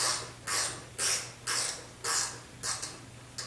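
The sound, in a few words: manual wrench loosening bolts on a 1976 Corvette gas tank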